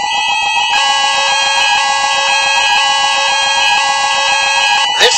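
A building fire alarm at a headquarters sounds a loud, continuous electronic tone that holds steady throughout.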